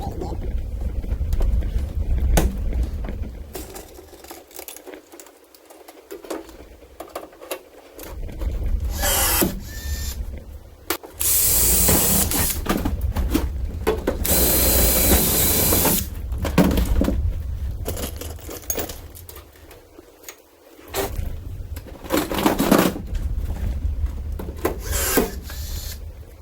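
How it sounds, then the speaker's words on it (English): Rivets are set while fitting a live-well kit into a Tracker aluminum boat: sharp, repeated tool bursts and metallic clacks come at irregular intervals, close by, with short pauses between. "we got it all riveted in"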